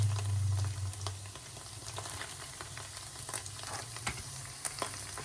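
Chopped cabbage hits a frying pan with tomato paste and sizzles steadily. A short louder burst marks the start, then the crackle settles into a continuous, moderately loud fry.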